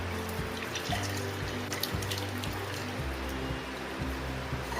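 Curdled milk chhena and its whey poured into a colander lined with a cloth, giving a soft steady trickle and dribble of liquid over a low background hum, with no talk.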